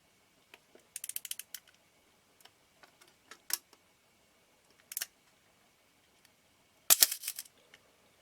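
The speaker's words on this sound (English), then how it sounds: "so if I cock the shutter very slowly" Nikon F camera shutter cocked slowly by hand, producing a sparse series of small mechanical clicks and ratchet ticks with a sharper snap near the end, close-up and quiet with no voices.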